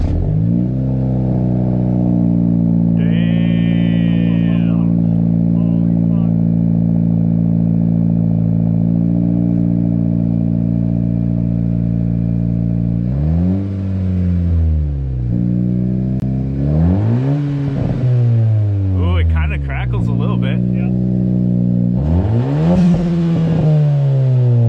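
A 10th gen Honda Civic Si with a MAPerformance race exhaust and front pipe idles loudly and steadily, then revs several times in rising and falling sweeps, close and alone.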